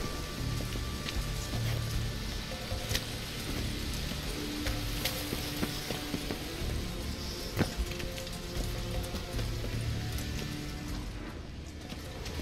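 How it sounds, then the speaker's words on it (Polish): Steady rain from The Witcher 3: Wild Hunt falls continuously throughout, a dense even patter with occasional brighter drops, moderately loud and unbroken, with no talk over it. "Pada!"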